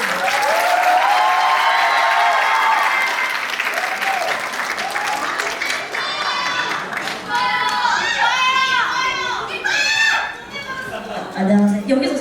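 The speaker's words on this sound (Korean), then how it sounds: "여러분 그럼 큰 박수로 맞아주세요." An audience gives sustained applause and cheering to welcome a speaker at a creator academy lecture at the National Assembly, with excited voices and calls rising over the clapping.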